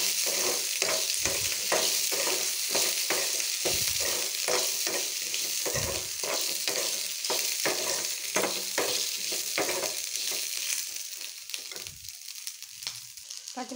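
Green chillies, some hot and some mild, frying in a pan for chutney: a constant loud sizzle with repeated clunks and scrapes of a spoon stirring, close up and without talk.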